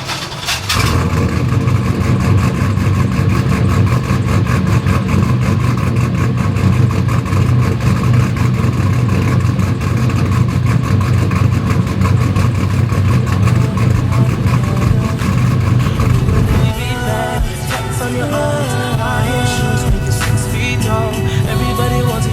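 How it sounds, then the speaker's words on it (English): An OBS pickup truck engine cold starts, then idles loud and close with a steady rumble, its pitch and character shifting near the end as it revs. "So let's get a cold start."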